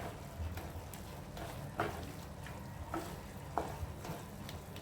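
Spoon stirring chilli powder into tomato kurma in a pan, giving a soft continuous scraping with a few sharper clinks of utensil against the pan and a light sizzle underneath, close and fairly quiet.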